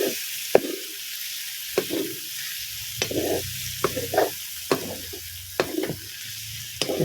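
Tomato and spices are stirred in a cooking pan, a spoon scraping in bursts against the metal over a soft background sizzle, each stroke short and close.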